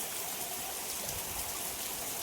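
Steady rain falling outdoors, a faint even hiss of drops on surfaces that continues without a break.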